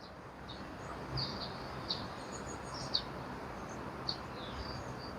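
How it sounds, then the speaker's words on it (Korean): Small birds chirp in short, separate calls at a distance outdoors, spaced a second or so apart over a steady quiet background hiss. "지금 새소리가 조금씩 듣기는데"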